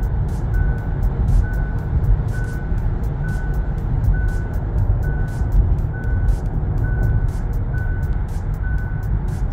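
A steady electronic lane-assist warning beep repeats at an even pace in a Kia EV6 over the constant rumble of driving on the road.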